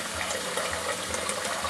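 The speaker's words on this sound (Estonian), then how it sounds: "Nüüd võtame spagetti jaoks poti ja paneme selle vette hästi." Tap water gushes steadily into a pot being filled for spaghetti, a continuous, fairly loud rushing splash with no pauses and no voices.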